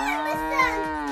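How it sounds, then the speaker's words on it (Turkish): A cow lets out a loud, close, drawn-out moo with a steady tone that bends slightly, heard alone without talk. "inandım şimdi. İnek var."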